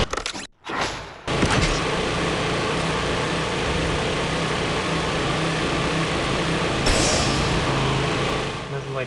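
A racing car in the Fast & Furious 6 game fires its nitro boost, a sudden loud whoosh after a brief cut, settling into a sustained roaring engine rush that swells again near the end.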